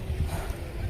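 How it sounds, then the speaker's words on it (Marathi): A boat nears the jetty at Sindhudurg fort, its low engine rumble steady and close under wind and splashing water, with no voices over it. "तो काही एक बोट आली बरं का आता."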